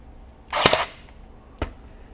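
A DeWalt DCN623 20V cordless 23-gauge pin nailer fires a single shot: a sharp, close pneumatic-style snap with a brief hiss. A softer second click follows about a second later.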